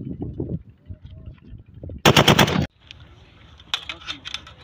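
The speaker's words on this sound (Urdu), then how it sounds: "یہ برسٹ آئے گا. برسٹ کے لیے اوپر کر دیں لیور کو." A single loud burst of rapid shots from a Pakistani-made gun set to burst fire, lasting about half a second amid quieter handling noises and mechanical clicks.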